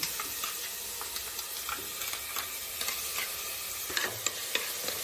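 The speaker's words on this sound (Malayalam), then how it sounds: "അതിലേക്ക് നമ്മൾ കുറച്ച് വെളിച്ചെണ്ണ ഒഴിച്ചു കൊടുക്കുകയാണ് ഉള്ളി എല്ലാം കൂടെ ഇട്ട് കൊടുക്കുകയാണ്" Steady sizzle of onions frying in coconut oil for beef liver fry, with scattered crackles and pops, close and continuous, with occasional clinks of stirring.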